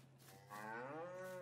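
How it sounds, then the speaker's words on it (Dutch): A cow in the Farming Simulator 22 video game gives one long low moo that rises and holds, heard clearly over a faint steady hum. "Koetjes."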